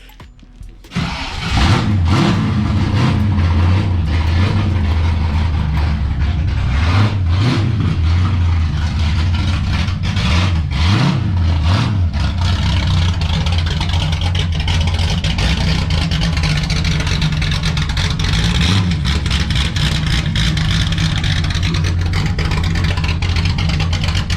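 A carbureted car engine runs loudly and continuously after a brief start, a rough steady idle with occasional revs rising and falling.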